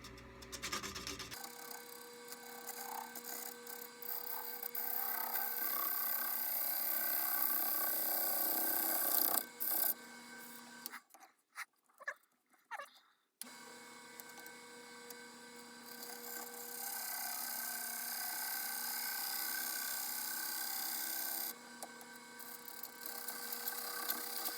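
A turning tool cuts a maple bowl on a wood lathe, giving a steady, close scraping and rasping whir that runs almost without a break and drops out briefly partway through.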